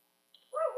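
A dog at night gives a single short yelp or bark, faint and brief, with no other sound around it.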